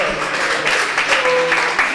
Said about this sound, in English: Give a round of applause for Dino right there.